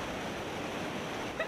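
Ocean waves rushing in a steady wash of surf with wind noise buffeting the microphone, continuous and fairly loud.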